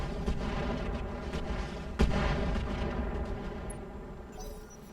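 Weapon fire in the RogueTech BattleTech mod: one heavy artillery boom lands over a dense, continuous rumble of battle noise, with faint distant thuds around it.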